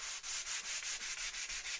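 Steady rhythmic sanding strokes rasp across the wooden surface of a turntable plinth, light and even, repeating about every fifth of a second with no voices.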